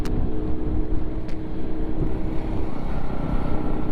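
Motorcycles, including a KTM Duke 390 with a loud aftermarket exhaust, roar steadily on a Sunday group ride, a continuous loud engine drone mixed with heavy wind buffeting on the microphone, with no clear talk.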